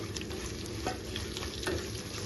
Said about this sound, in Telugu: ఇది కొద్దిగా ఫ్రై అవ్వాలండి ములక్కాయ ముక్కలు.